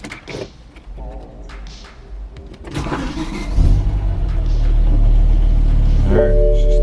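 An abandoned BMW M5 E60 with a V10 and manual gearbox cranks and fires up midway after some handling noises, then holds a loud, deep, steady idle rumble to the end.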